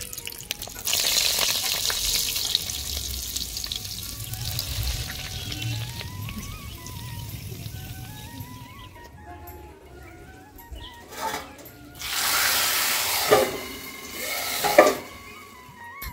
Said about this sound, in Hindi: लहसुन, हरी मिर्च, लाल मिर्च और जीरा का तड़का लगाएंगे।